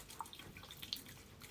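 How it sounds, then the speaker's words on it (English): Warm tap water runs onto a towel at a sink, a soft, steady trickle with faint dripping, heard alone and fairly quiet. "I have lukewarm water, warm water running on the towel that I have"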